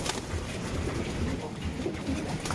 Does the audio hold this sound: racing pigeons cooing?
yes